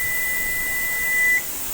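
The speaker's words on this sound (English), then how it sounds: "so the timers went off" A kitchen timer beeps during squash canning, giving a steady, high, continuous electronic tone that cuts off near the end, heard alone over a constant background hiss.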